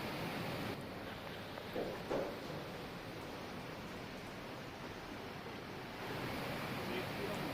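Floodwater rushing through residential streets and into homes in Bihar, a continuous broad roaring wash of fast-flowing water, with a faint voice now and then.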